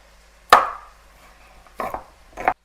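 Cans of crushed tomatoes being opened beside browning meat, garlic and onions: three sharp metallic clicks and pops, one ringing briefly, the other two closer together, close and clear over a quiet background.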